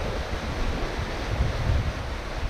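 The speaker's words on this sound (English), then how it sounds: "we've got a bit of wind" Wind and surf around a sailing boat at sea near the southern Great Barrier Reef, a steady loud rush of gusting wind over breaking waves with low rumbling buffets and no talking.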